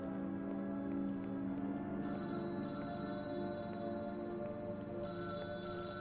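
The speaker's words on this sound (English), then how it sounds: "Wait, someone's ringing a phone." A telephone ringing in a video game, with steady repeated electronic ring bursts at regular intervals over a continuous background hum of game music.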